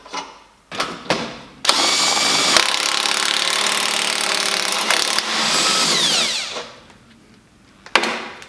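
An impact gun tightens bolts on roll cage gussets for an MX5 Miata with a 1950s Ford body, loud rattling bursts after a few short clicks, one long run of about five seconds followed by another.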